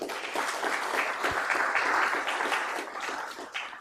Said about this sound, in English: And let's give one more applause to all the students.